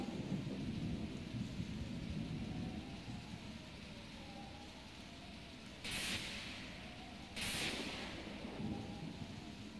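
Thunderstorm over a stormy sea in Pokemon Mystery Dungeon Explorers of Sky: a constant hiss of heavy rain with two sudden bright thunder cracks close together late on, under a low background rumble.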